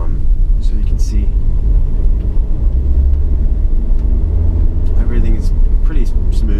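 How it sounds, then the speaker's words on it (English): A Mercedes CLA250 in comfort mode rolls over a very bumpy road, heard from inside the cabin as a loud continuous low rumble of tires and suspension, with a person talking over it. "So now we're going into this really bumpy road."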